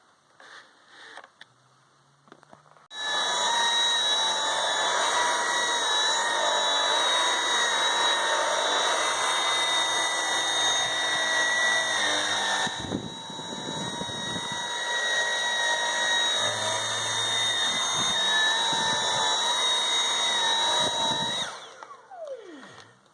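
A Dyson V8 Total Clean cordless vacuum cleaner with its small power head runs steadily, a high whining motor hum that starts abruptly, holds loud and close, dips briefly midway, then cuts off near the end.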